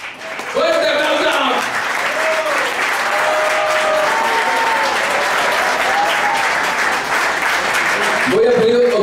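A concert crowd in Tucumán applauds the guitarist in a loud, continuous burst of clapping and cheering, with a voice talking over it at the start and end and occasional shouts in between.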